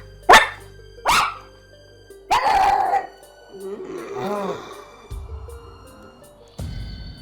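A person under hypnosis imitates a dog, giving two short sharp barks and then a longer howling, yelping bark. Quieter vocal sounds and room noise follow.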